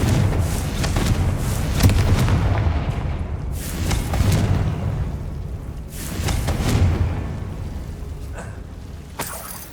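Repeated Confringo fire-spell blasts in the Hogwarts Legacy video game: deep, booming explosions with heavy low rumble, several in sequence a couple of seconds apart, loud and close, with no talk over them.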